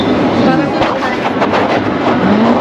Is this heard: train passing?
yes